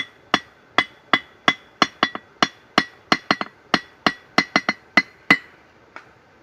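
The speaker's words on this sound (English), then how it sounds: "think I'm going to use a smaller hammer to" A small hammer beats out a knife bevel, sharp metallic strikes ringing out one after another in a steady rhythm, about eighteen blows, close and loud with a bright ringing tone.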